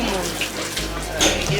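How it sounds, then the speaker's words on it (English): Water runs steadily from a tap while glass bottles are washed and sanitized at a family coconut water business in Jamaica, a soft continuous splashing with a brief louder gush near the end. "Sanitizing the bottles, then washing the bottles, then cleaning them out."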